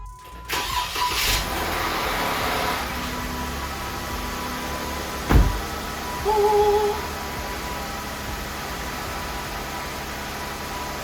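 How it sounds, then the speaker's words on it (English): A Jeep Wrangler engine cranks and catches, then settles into a steady, fairly quiet idle that holds throughout, with a sharp knock partway through. "she's gonna start. She may be slow because it's been a while"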